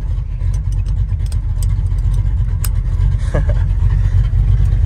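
A Ford Maverick's engine runs loud and close with a deep, throaty, continuous rumble that swells slightly toward the end.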